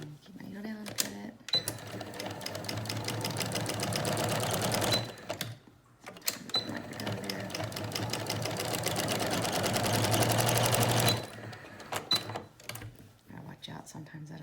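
A sewing machine stitching fabric for a washable rounded beak-style face mask, running in two long bursts of fast mechanical stitching with short pauses, close by, while a person talks.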